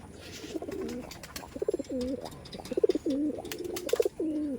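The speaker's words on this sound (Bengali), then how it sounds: "মেলটা কিন্তু এখনই ডাক দিচ্ছে" A male Giribaz pigeon coos in a run of repeated, rolling calls, close and fairly clear over a faint background hum, with short pauses between phrases.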